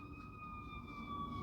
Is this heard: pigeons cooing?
no